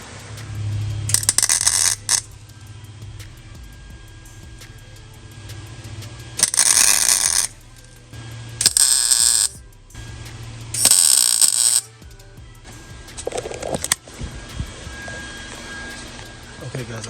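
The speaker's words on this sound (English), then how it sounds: "let's weld." A MIG welder tacks a patch during rust repair on a white and blue Ford Mustang, with no shielding gas turned on. Four short, loud crackling bursts are separated by a low background hum.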